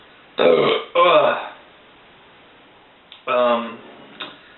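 Loud, close burps after drinking carbonated beer, two in quick succession and then one more after a pause, with no talk over them.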